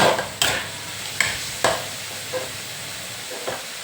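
Cauliflower and chillies stir-frying in a pan, a steady low sizzle broken by several sharp scraping strokes of the spatula at irregular intervals, close up, with no voices.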